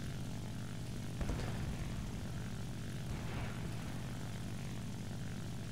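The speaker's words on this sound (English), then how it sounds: "So now I'm cooling down the engine because the engine's overheated." An overheated propeller aircraft engine in the War Thunder video game drones steadily and loudly throughout, a continuous rumbling roar with no pauses.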